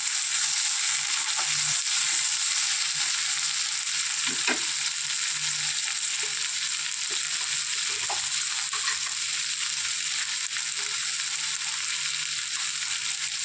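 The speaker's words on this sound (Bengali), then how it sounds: "এরপর এতে একটা মিডিয়াম সাইজের কেটে রাখা টমেটো কুচি" Chopped medium tomato frying with onions in a pan for a teasel gourd and prawn dish, a steady sizzle with soft stirring and crushing strokes, loud and close, with no talking.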